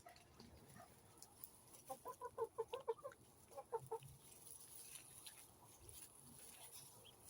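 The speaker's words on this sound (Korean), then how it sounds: "암탉은 병아리를 지키려고 계속하고 있습니다" A hen guarding her chicks clucks in short rhythmic bursts, a run of quick clucks then a second shorter run, close by over faint outdoor background noise.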